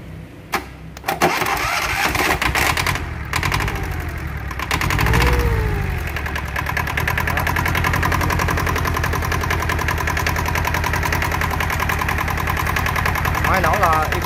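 A Yanmar 2H66 9.5 hp diesel engine idles with a steady, rough knocking rumble after a few clunks at the start, running evenly and close for the rest.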